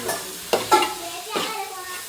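Food fries in a pan while a spoon stirs it in a few quick scraping strokes over a close, steady sizzle, all within about two seconds.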